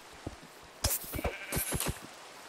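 Several short sheep bleats from Minecraft VR, a few sharp calls close together, each loud and near against a quiet background with no talking.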